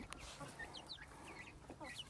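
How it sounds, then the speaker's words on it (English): A meat chicken perched on a weighing scale gives soft, intermittent clucks and murmurs, quiet and close, with short pauses between calls. "So here's this chicken sitting on the scale."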